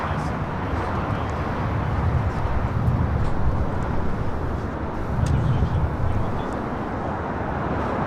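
JetBlue Airways Airbus A321 taking off at LAX, bound for Newark: a steady, moderately distant jet rumble with gentle swells, heard on its own without talk.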